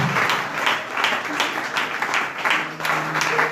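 A church congregation applauding during a worship service, continuous rhythmic clapping from many hands with a faint voice beneath.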